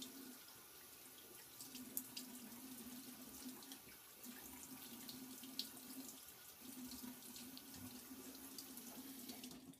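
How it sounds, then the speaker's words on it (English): A bathroom tap runs into a sink while a face is rinsed after shaving, a soft constant stream with gentle splashing and a few brief dips where hands pass through the flow, close but quiet, with no voices. "Rinse off my face and see how it feels."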